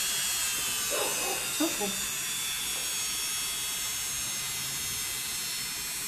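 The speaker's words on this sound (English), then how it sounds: "Let me turn on the Dremel, let him hear the noise again." A Dremel rotary tool used for grooming a doodle dog runs with a steady, high buzzing whine throughout, and a voice speaks briefly near the start.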